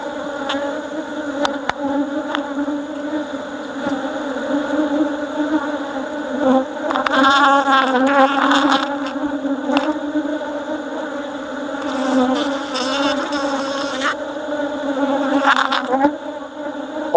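Bees drone in a dense, steady buzz throughout an open hive inspection in Nigeria, with louder swells as insects fly close past.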